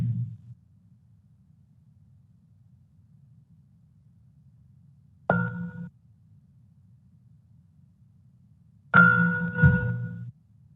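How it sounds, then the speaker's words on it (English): A soft bell is struck twice, once near the middle and again toward the end, to close a mindfulness practice at a psychology board meeting. Each ring is clear and ringing and fades slowly over a quiet low hum. "And I will ring a soft bell to end our practice."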